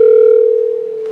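A steady telephone dial tone on a home PBX system sounds alone as one continuous, loud hum that fades slightly over about a second before a faint click at the end.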